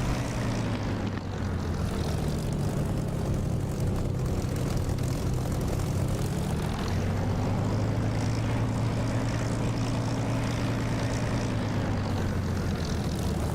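A steady, loud propeller aircraft engine drones from a DCS flight simulator during a runway takeoff roll, with a continuous low rumble and a tone that rises slightly, and no talk.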